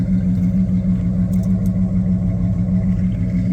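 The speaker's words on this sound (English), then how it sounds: "it has a nice little rumble to it." A 1970 Chevy Monte Carlo V8 rumbles at idle close to the microphone, a steady, loud, low throb with no talk over it.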